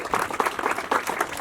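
Short burst of audience applause at a county community event on Long Island's Town of Oyster Bay, dense steady clapping from a crowd with faint voices mixed in.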